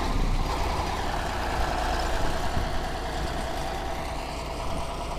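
A T-150 crawler bulldozer with a YaMZ-236 diesel engine idles nearby, giving off a steady, rough rumble that holds without letup throughout.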